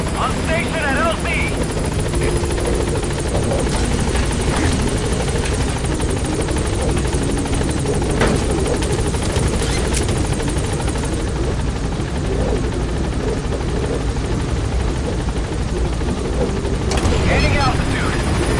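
The B-Quad support helicopter in Metal Gear Solid V approaches a landing zone with a loud, steady rotor roar and engine drone throughout, while radio voices talk over it.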